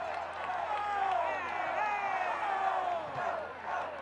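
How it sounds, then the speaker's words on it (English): A football crowd in the stands rises to its feet with loud, sustained cheering and rhythmic chanted shouts that swell and fall across several seconds. "Geneseo's crowd comes to their feet again, asking for go, go, go"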